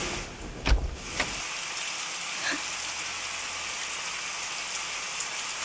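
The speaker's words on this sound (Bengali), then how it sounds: "আবার বৃষ্টি।" Steady rain falls outdoors in an even, moderate hiss, with a couple of dull knocks near the start and no talking.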